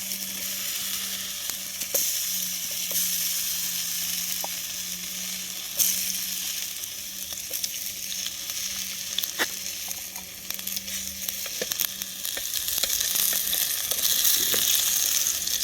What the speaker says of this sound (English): I'll start off with the potato chips because they'll take the longest